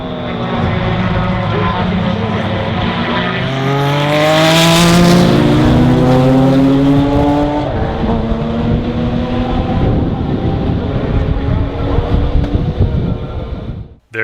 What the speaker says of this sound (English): Watching these cars going around the track being driven as they were meant to be is what it's all about for me